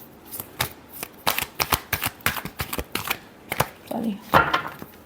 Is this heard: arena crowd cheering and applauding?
no